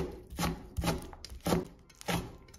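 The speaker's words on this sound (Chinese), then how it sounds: "然后给它切成薄薄的片，然后我们再给它切成丝" A knife chops skinned Chinese cured pork (larou) on a cutting board, first into thin slices and then into strips. Four quiet, evenly spaced strokes land close by, with no speech.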